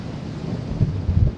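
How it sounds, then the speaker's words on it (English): Strong wind in Iceland's West Fjords buffets the microphone, a low, rumbling roar with gusty swells near the end, heard alone. "Way too windy."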